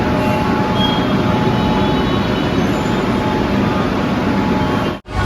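Kolkata Metro Green Line train at Salt Lake Sector V, heard from inside as a loud, steady rumble and hiss that holds evenly, then drops away sharply at the very end.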